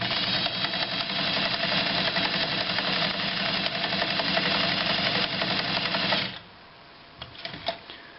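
A Universal model KAB-M sewing machine stitching at a steady fast whirring rattle, close and even for about six seconds, then stopping, followed by a few light mechanical clicks.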